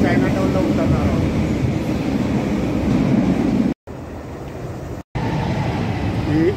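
An underground metro train runs through a Chicago subway tunnel with a loud, steady rumble and rail roar throughout, briefly cut by two short gaps.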